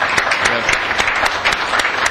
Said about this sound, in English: I think we should give Craig a round of applause